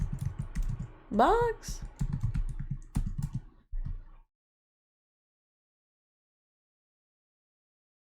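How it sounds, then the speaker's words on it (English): Computer keyboard keys, including the spacebar, are pressed in a few quick clicks under ongoing talk, then everything goes silent. "Oh, pressing spacebar."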